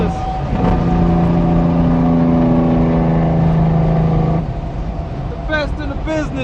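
A Kenworth W900 truck engine revs loudly and close by, a sustained rising drone that drops off after about four seconds, followed by people talking briefly.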